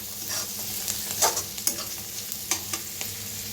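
Spice masala of turmeric and red chilli powder roasts in a pan with green chillies, giving a loud, close, continuous sizzle broken by irregular scraping stirs of a spatula, with no voices.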